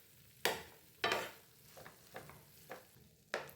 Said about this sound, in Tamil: இதை வந்து கரண்டிலே நல்லா மசிச்சு விடுங்க.